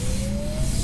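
A sports car pulls hard under acceleration, its engine note climbing steadily in pitch as it revs up, close and loud over a dense rumble of road and tire noise, with no talking.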